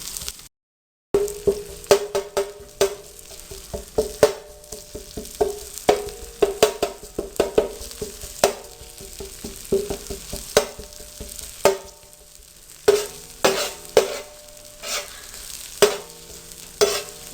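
Chopped ginger frying in a hot pan for tawa pulao, a steady sizzle broken by repeated sharp scraping clicks of a spoon stirring against the metal, close and fairly loud with no talk.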